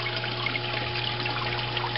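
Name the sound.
water trickling from recirculating tank overflow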